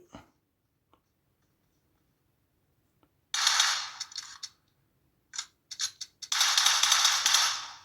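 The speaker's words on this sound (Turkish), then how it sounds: "Gördüğünüz gibi vurdum arkadaşlar" PUBG Mobile gunfire played on a Redway 10 tablet comes in bursts of rapid, crisp shots separated by near silence, with a few faint clicks before the first burst.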